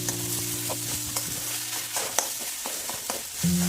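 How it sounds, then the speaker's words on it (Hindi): Pahadi phanu stir-fried in a pan with green chillies and tomato, giving a steady soft sizzle with occasional scraping stirs and light ticks, close and continuous with a faint background tone. "अब इसे अच्छी तरह भून लेंगे।"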